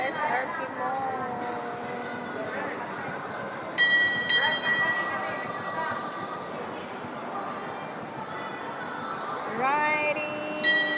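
A mall ride-on train at SM SRP rolls along its rails with a steady rumble, wheel squeals and clinking couplings, while people talk and call out over it nearby.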